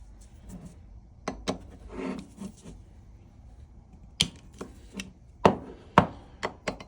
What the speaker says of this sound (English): So we'll just loosen these 4 screws.